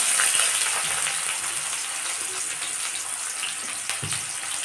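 Onions fry in hot oil over a high flame for egg biryani, giving a steady loud close sizzle with a dense crackling hiss throughout and a couple of soft knocks from a utensil.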